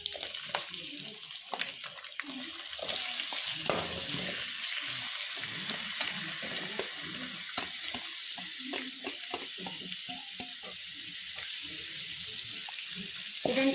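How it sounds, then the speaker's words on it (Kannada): Chopped onions sizzle in hot oil with cumin seeds and curry leaves in a pan, a steady close frying hiss with scattered crackles and stirring scrapes running throughout. "ಇದನ್ನು ಚೆನ್ನಾಗಿ ಫ್ರೈ ಮಾಡ್ಕೋಬೇಕು"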